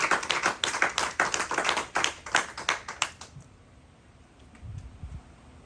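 A church congregation claps for about three seconds, a brisk, moderately close burst of hand claps that fades out into near silence.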